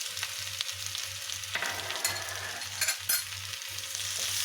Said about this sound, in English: you need to constantly keep mixing the onion and the potatoes together till the potatoes don't soften